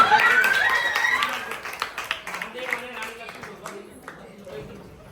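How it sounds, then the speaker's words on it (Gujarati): Scattered, fairly light clapping from an audience at a quiz contest, applauding both teams, with a voice talking over it as the claps fade. "ચાલો બંને ટીમને તાળીઓ પાડો"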